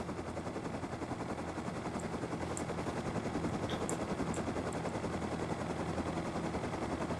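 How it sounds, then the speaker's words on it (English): A helicopter in the survival video game Rust gives off a steady, rapid rotor chop that thrums continuously at close range, with a few faint higher clicks scattered over it. "I'm coming to the helicopter."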